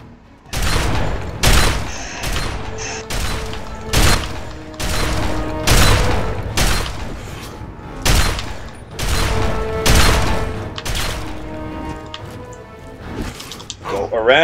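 Rapid bursts of gunfire from the video game Fallout 3, loud booming shots repeating in an irregular volley across the whole stretch, with a player talking over them.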